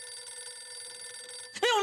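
A telephone rings with a steady electronic trill, then a voice cuts in briefly at the end.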